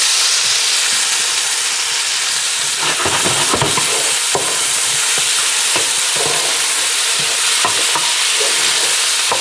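Onions and jalapeño sauté loudly in a pan for barbecue pork and beans, a dense, close hiss of frying with scattered scrapes and clatters from stirring.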